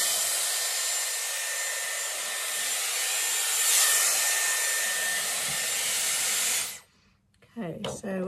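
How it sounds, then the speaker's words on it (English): A Dyson Airwrap on its cool shot setting blows steady, loud airflow over freshly round-brushed hair, a constant broadband rush for about seven seconds that cuts off abruptly into near silence, with faint movement noise at the end. "I'm just going to pop it onto cool shot, and I'm just going to run over the top just to really get some cool air in it"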